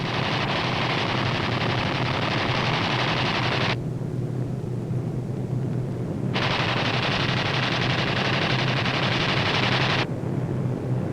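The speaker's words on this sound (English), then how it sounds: "These B-25s are carrying out low-level strafing operations against Jap surface vessels" Machine guns from low-flying B-25 bombers strafing Japanese surface vessels and an airfield in 1944, a loud, continuous roar of fire that cuts out twice and then resumes.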